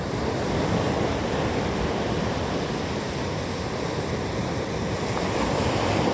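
Ocean waves washing up close to the shore, a dense, constant roar of surf with wind, loud and unbroken throughout.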